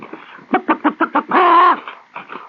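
A voice imitates a clucking chicken on a radio broadcast, with a run of six quick, rhythmic clucks that swell into a loud, drawn-out squawk, then a few softer clucks at the end.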